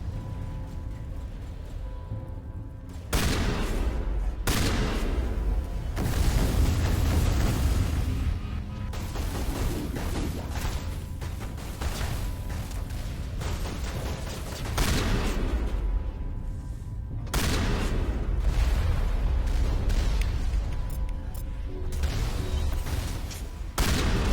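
Rocket explosions and gunfire in the Mass Effect video game, a sustained barrage of booms and crackling shots that swells in loud bursts and keeps rolling for the whole stretch.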